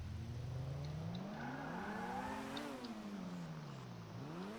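Traffic in Grand Theft Auto V streams past while waiting at a red light, engines rising and falling in pitch as several cars sweep by one after another, a steady loud whoosh of motors with no talk.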